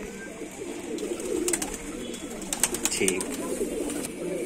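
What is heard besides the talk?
pigeon cooing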